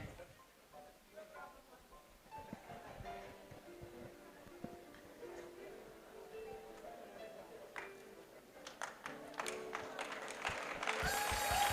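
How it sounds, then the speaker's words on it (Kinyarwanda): Crowd applause at a Foursquare church youth event, building slowly from scattered claps into louder, denser clapping toward the end, with voices and cheering mixed in. "Tubikomera amashyi cyane."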